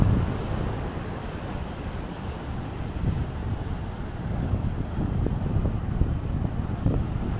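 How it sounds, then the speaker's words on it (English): Ocean surf breaks at a Carolina beach under steady wind, a continuous low rumbling wash with gusty microphone buffeting and no voices. "there's some waves out there today."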